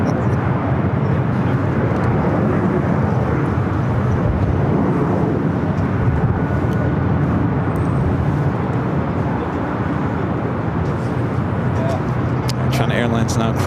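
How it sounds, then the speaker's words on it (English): A China Airlines airliner crosses over at LAX, heard as a steady loud broad jet roar from distance that holds evenly throughout, with someone talking over it. "China Airlines now crossing over."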